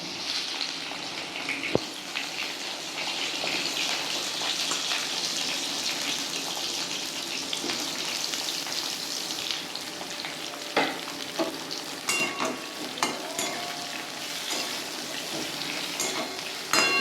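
Eggplant pieces fry in hot oil, giving a steady, close sizzling hiss throughout, with scattered pops and the scrape of a utensil near the end.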